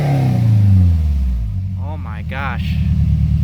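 A truck engine with a newly fitted exhaust system rumbles and revs loudly, rising then settling into a steady idle, while people talk over it.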